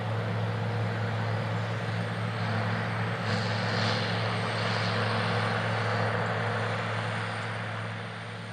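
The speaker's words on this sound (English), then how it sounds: "seeing and hearing and learning about this John Deere 9520 four-wheel drive tractor and the Great Plains Turbo Max" A John Deere 9520 four-wheel-drive tractor pulls a Great Plains 3500 Turbo Max tillage tool across a field, giving a loud, steady low engine drone that holds throughout and eases off slightly at the end.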